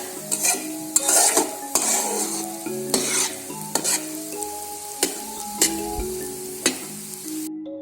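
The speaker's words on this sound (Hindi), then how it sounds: "सूजी फ्राई होना शुरू हो गई है और अब ये पैन के साथ नहीं लग रही" Semolina for halwa is stirred and fried in a pan, with a spoon scraping and knocking against the metal in a regular rhythm of loud strokes over a low sizzle, no voices.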